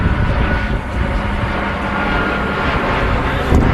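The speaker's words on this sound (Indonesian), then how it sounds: "Ada pesawat lewat, pesawat Garuda." A Garuda Indonesia airplane passes overhead in hilly terrain near a summit, its engine drone a steady, broad roar that holds fairly loud throughout the short moment with no talking.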